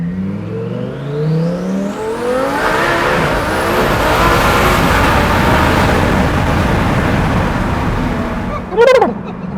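Lamborghini Huracan STO accelerating at full throttle, its engine revving loudly and rising steadily in pitch for several seconds, close and continuous, with a brief sharp whoosh near the end.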